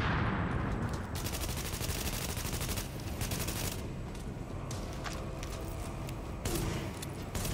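Sustained automatic assault rifle fire in The Division during a Xbox One firefight in a mall, loud bursts of rapid shots running almost continuously with brief gaps, dense and close.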